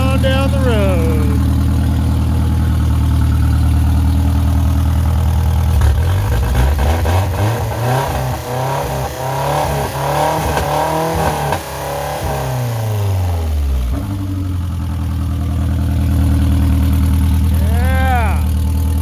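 A KA24E-swapped Datsun 510 wagon engine idles loudly up close, then revs up hard several times and settles back to a rumbling idle, with brief excited voices at the start and end.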